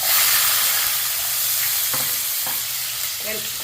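Small shallots, fennel seeds and cumin sauté in hot oil for a brinjal kulambu, giving a loud, steady sizzling hiss with a few soft stirring scrapes near the end.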